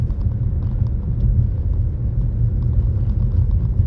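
A car drives west along a road in the US, giving a steady low engine and tyre rumble that stays even and close throughout, with no voices.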